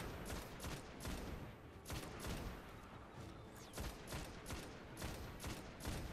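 Gunfire from enemies in Destiny: Rise of Iron, a sequence of sharp shots fired in quick bursts with brief pauses between them, distant and fairly quiet.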